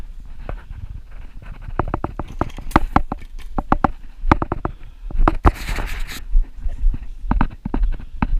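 Hunting dogs pant hard and quickly while working with nets outdoors, close and loud breathy bursts in an uneven rhythm, with occasional scuffling and paw movement between them.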